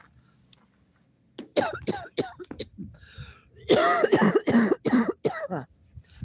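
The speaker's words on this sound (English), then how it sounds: "As you hear me cough my lungs out" A person coughs repeatedly and harshly up close, in two rough bursts separated by a short pause, with throat-clearing sounds.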